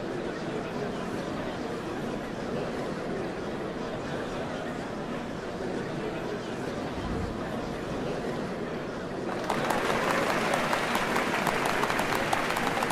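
Applause rises from a crowd in the Final Fantasy XIV online game, a dense steady clatter of clapping that grows louder and brighter toward the end, with voices mixed in beneath it.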